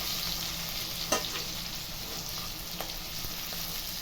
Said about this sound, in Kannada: ಚೆನ್ನಾಗಿ ಫ್ರೈ ಆಗಿದೆ.